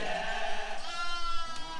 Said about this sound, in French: La brebis qui avance là derrière